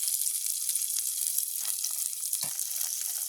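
Onion, garlic and green chili sizzle in hot oil in a village kitchen pan. The frying hiss is bright and steady, with a stir or clink now and then and no voices.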